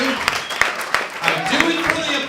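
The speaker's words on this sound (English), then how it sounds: "I do it for the applause." Comedy club audience applauding a stand-up comedian, a short burst of clapping with some voices and laughter mixed in, heard close and fairly loud.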